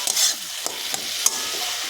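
A spoon stirs bottle gourd in a pan as it cooks with milk, giving a handful of scattered scrapes and clinks over a faint, steady sizzle.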